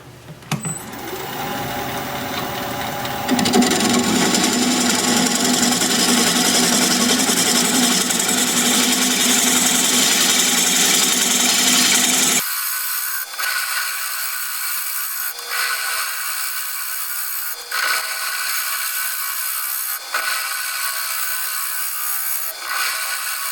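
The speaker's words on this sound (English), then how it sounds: "We're going to be turning at 650 RPM, 5/8 inch bowl gouge, mask, and face shield on." A wood lathe spins a Kamani wood bowl at 650 RPM while a 5/8 inch bowl gouge cuts, giving a loud steady whirring scrape for about twelve seconds, then lighter rhythmic cutting passes with brief pauses.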